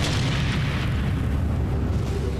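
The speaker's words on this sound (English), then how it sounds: "And then the Big Bang happened and all this appeared." A deep, sustained rumbling boom rolls on for the whole stretch as a Big Bang explosion effect, dense and loud with a heavy low roar and no voices.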